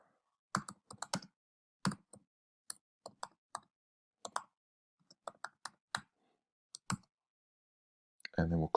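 Keyboard keys clatter in short irregular bursts of clicks, close and moderately quiet, as HTML code is typed, with pauses between the bursts and a denser flurry at the end.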